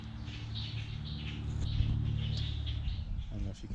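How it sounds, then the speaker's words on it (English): Birds chirp and twitter busily at a moderate distance in a bamboo forest, several calls overlapping against a low background hum. "Birds are having a heated debate"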